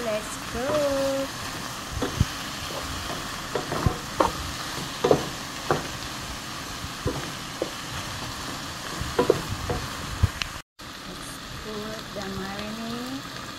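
Pork adobo frying and being stirred in a pan, a steady sizzle broken by scattered scraping clicks and clatters, with a voice speaking faintly at the start and near the end.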